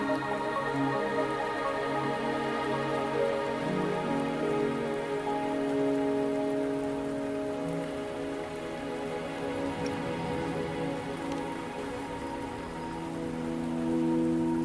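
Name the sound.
rain falling, from the video game Wuthering Waves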